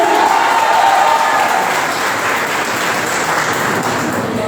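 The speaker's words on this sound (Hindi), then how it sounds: "इसलिए तालियां एक बार" Loud sustained applause from a large audience at a Teachers Day celebration, a thick continuous wash of clapping with faint crowd murmur beneath.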